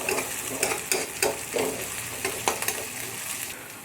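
Dried red chillies and crushed ginger and garlic fry on high heat in a pan, a continuous sizzle broken by repeated scraping strokes of a spoon as the mixture is stirred, close and fairly quiet, with no talking.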